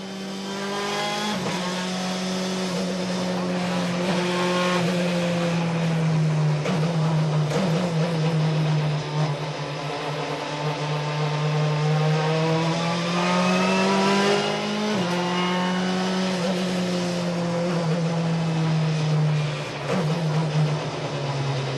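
A WTCC touring race car circles the formation lap at Marrakesh, its engine droning in a steady mid-pitch hum that rises and falls as it revs through gears, with occasional throttle blips, close and continuous with no talk.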